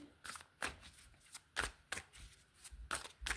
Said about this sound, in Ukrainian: перших три карти, які я зараз витягну